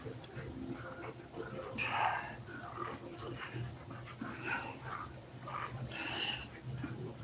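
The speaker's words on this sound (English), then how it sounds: "It sounded like a dog yiping." Near a live alligator area, a dog gives faint yips and whimpers mixed with panting, in scattered short bursts over steady background noise, with no clear talking.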